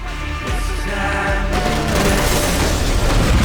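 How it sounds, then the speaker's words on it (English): Grenade blasts in the shooter game Max Payne 3, building from a dull boom into a dense, loud roar of overlapping explosions and crackling debris that grows stronger toward the end. "Grenades."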